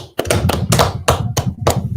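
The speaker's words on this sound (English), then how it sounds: "Clap it up, man." Rhythmic clapping from a congregation at a Sabbath service, steady sharp claps about three per second that stay close and fairly loud, with a low rumbling undertone beneath them.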